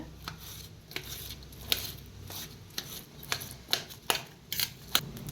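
Knife chopping roasted brinjal finely on a board, a quick irregular run of sharp taps with clatter, close and fairly loud, with no talk.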